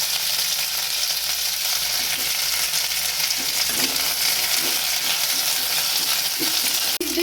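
Green chillies and curry leaves fry in hot oil with a steady, loud, broadband sizzle that never lets up, a few soft stirring scrapes and one sharp utensil click near the end, with no voices.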